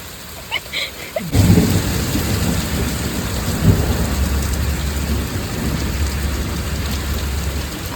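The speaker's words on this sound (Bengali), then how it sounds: "ট্রাম থেকে নেমে বাস ধরতে যাওয়ার সময় এতটাই জোরে বৃষ্টি পড়ছিল" Heavy rain pours down steadily on a street near a tram and bus stop, with thunder rumbling beneath a dense, loud wash of falling water that starts abruptly and continues without a break.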